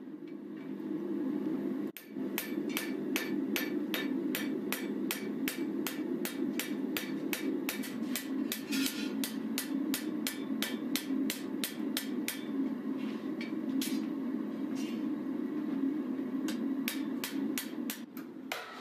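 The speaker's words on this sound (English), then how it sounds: "the treadle hammer is used to ensure the blade is straight." Steady, evenly spaced metallic treadle hammer strikes on a forged knife blade ring out over a continuous low mechanical hum, dozens of blows at a regular rhythm.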